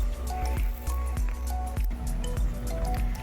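Water from a hose shower head rinses off a BMW during a wash. Spray patters and drips in a steady, close stream, with brief squishy splashes.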